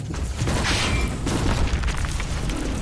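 A turret summoned in the Warhammer 40,000: Inquisitor video game lands with a dense, rumbling boom and mechanical clatter that holds loud and steady for a few seconds.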